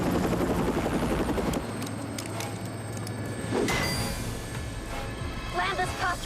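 Helicopter in flight in a 2005 action TV movie: a steady, heavy rotor and engine rumble under tense dialogue, with some clicks and metallic knocks near the end.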